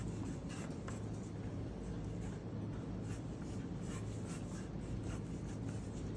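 A pencil sketches people on paper in quiet, rapid scratchy strokes, a continuous soft rasp of graphite close by with no talking.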